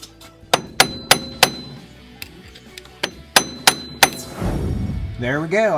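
A hammer bangs a Dodge transmission to break it loose: a string of sharp ringing metal hits, close and loud, followed by rustling handling noise as the part shifts.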